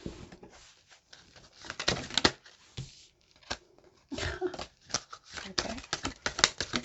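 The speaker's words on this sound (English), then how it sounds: "Very easy to shuffle for this deck." A deck of tarot cards being shuffled by hand, giving bursts of crisp riffling and flicking with short pauses between them, close up and fairly loud.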